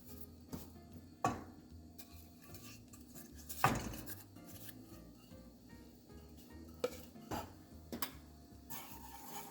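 Pumpkin spice syrup with condensed milk being stirred in a pan, with quiet scraping and several sharp clinks of a utensil against the metal, close but soft, irregular and without talk.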